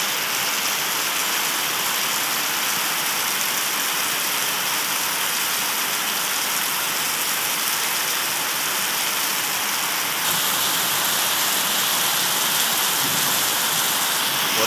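Heavy rain pouring steadily without letup, a dense continuous hiss of water striking surfaces nearby, loud and unbroken with no voices.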